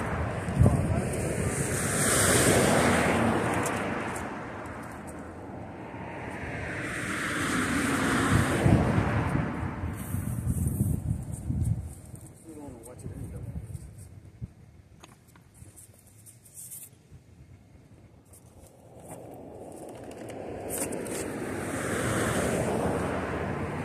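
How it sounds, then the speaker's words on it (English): Strong wind sweeping over an open roadside camp beside a highway near El Paso, roaring in long rising and falling gusts that batter the microphone, with brief voices and traffic rumble faintly beneath. "The problem with it is it's actually very windy"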